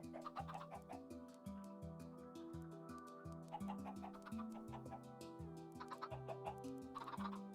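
Chickens in a Minecraft chicken farm cluck repeatedly, with several overlapping short clucks and squawks in a steady, bouncy rhythm over quiet background.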